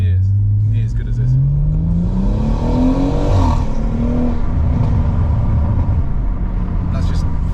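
A tuned Stage 2+ BMW M140i with an aftermarket exhaust revving up hard, the engine note climbing then settling with crackle and rumble, loud and close.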